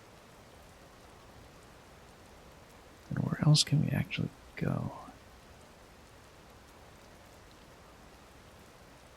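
Steady rain hisses softly throughout a rainy scene in the video game Tears of the Kingdom, with someone speaking briefly over it midway.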